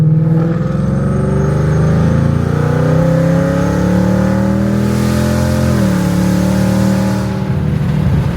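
Heard from inside, a supercharged 2024 Ford Mustang GT running on E85 pulls under light throttle, its V8 droning loud and steady as the pitch climbs for several seconds, dips at a shift, then eases off.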